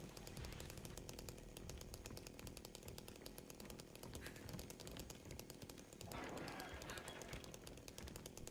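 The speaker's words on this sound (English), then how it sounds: "It's my chainsaw." A video-game chainsaw runs continuously for several seconds, a rough buzzing drone that rises in a louder rev toward the end, with faint talking underneath.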